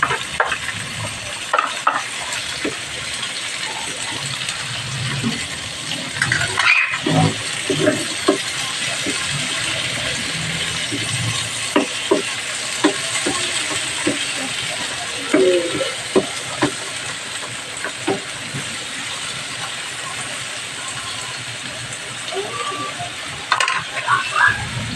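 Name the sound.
onion and tomato sautéing in a pan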